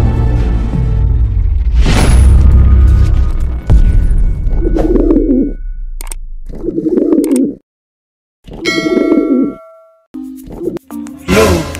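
Racing pigeons arriving home after a 115 km derby race from Maasin, Southern Leyte, coo in several separate low bursts, close by, following a louder noisy stretch at the start.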